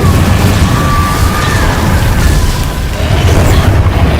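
A fire spell blasting in a wizarding video game, a loud continuous roaring rumble with crackling texture that holds steady for several seconds without any voices.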